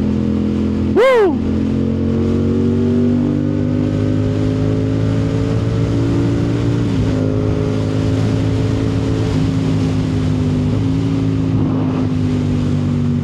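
A CF Moto 450 SR-S motorcycle on the Cavitex expressway holds a steady, loud engine drone, its pitch rising and stepping through gear changes as it accelerates, with wind noise throughout and no speech.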